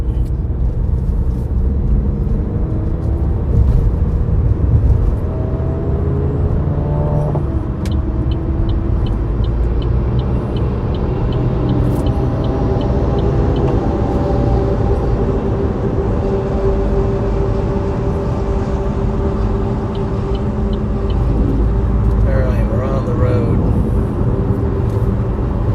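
A car's engine and road rumble fill the cabin in a steady low drone during a storm chase through Maine and New Hampshire, with faint voices now and then.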